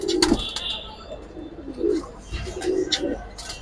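Silver racing pigeons give soft, low repeated coos at close range, several in a row, with faint background chatter and rustling.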